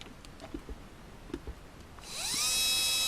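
A 550-size 5-slot brushless RC crawler motor spins up sharply and then holds a steady high whine at a constant speed, loud and close, with no voices.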